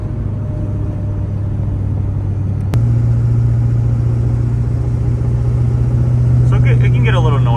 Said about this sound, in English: the truck can get a little noisy, especially with road noise and all that stuff